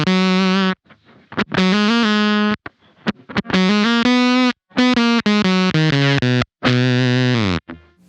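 Fuzzy electric guitar through a Beetronics Abelha fuzz pedal voiced for heavy low end, a loud sequence of thick sustained notes and short stabs separated by brief silences.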